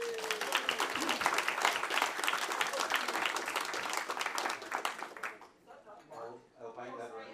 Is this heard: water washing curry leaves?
no